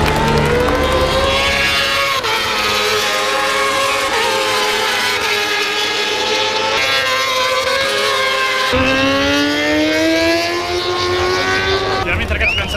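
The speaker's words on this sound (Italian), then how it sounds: "le moto fanno un casino tremendo" Racing motorcycles roar loudly and continuously around the Mugello circuit, heard from the grandstand, with engine pitch rising and falling as bikes pass, while crowd noise and voices mix underneath.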